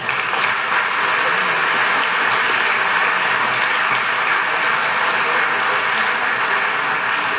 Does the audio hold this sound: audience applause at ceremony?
yes